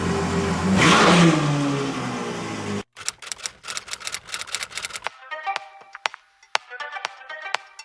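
A straight-piped Ferrari F12 revs hard and loud for a few seconds, then cuts off, followed by bursts of sharp rapid clicking.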